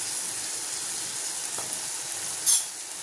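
Chili powder fries in a pan while pickling citron, giving a steady, close sizzle with a faint clink partway through.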